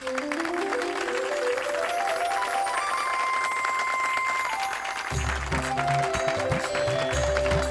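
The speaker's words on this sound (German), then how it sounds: "Ich bitte um Applaus." An audience applauds actors who have come onto a stage at the end of a performance, a steady wash of clapping running throughout beneath loud melodic music with a deep bass that enters partway through.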